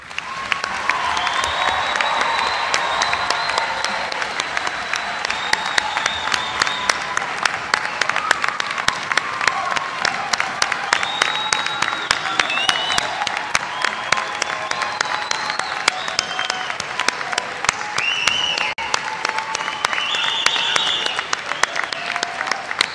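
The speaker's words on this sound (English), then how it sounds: "offering them a round of applause" Prolonged applause from the crowd at a spring 2019 law school commencement honoring the graduating class, dense, even clapping with scattered cheers sustained throughout.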